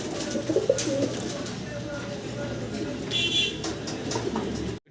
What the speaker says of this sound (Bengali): আরও চমৎকার কিছু কবুতর আছে